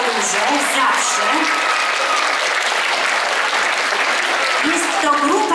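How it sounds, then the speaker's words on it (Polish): Audience applause at a cultural centre showcase of artistic groups in Knurów, a steady dense wash of many hands clapping that holds loud and even throughout, with faint voices mixed in. "brawa mogą być bardzo duże, zawsze"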